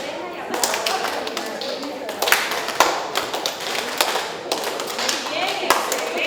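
Audience claps in unison during a nose-and-ear coordination game at a talk for teachers, sharp group claps recurring at irregular intervals amid room noise and shuffling.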